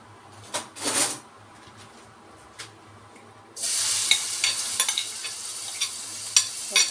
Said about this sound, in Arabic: ننزل بالبصل